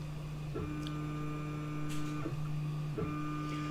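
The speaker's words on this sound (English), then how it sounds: "click test and watch your rotary" A stepper motor drives the rotary axis of a laser engraver during a test turn, giving a steady electronic whine that shifts pitch in a few short steps, close and moderately quiet, with no talk.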